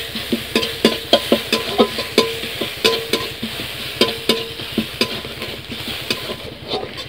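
Garlic and oil sizzle in a pan while a spoon stirs rhythmically, with repeated close scraping strokes over a steady frying hiss as soybean curry is being cooked.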